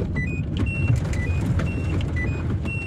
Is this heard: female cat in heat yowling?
no